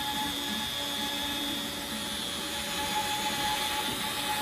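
X-Carve CNC router with the spindle switched on and carving a Christmas light box; a steady high whine with a broadband hiss runs continuously at moderate level.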